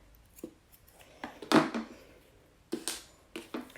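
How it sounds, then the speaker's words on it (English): Scissors snipping yarn during a crochet project, a few quiet separate cuts with one sharper snip in the middle, close by and with no talk. "And you're going to cut your yarn."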